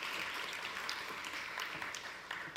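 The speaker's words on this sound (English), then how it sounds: "let's give them a round of applause again" Faint, continuous applause from a conference audience at a United Nations forum in Trinidad and Tobago, a soft, crackling wash of many hands held at a steady level.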